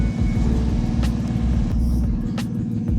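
Noisy car traffic close by, heard through a DJI Mic 2 with noise cancellation, a loud steady low rumble of engines with two brief passing hisses, no speech.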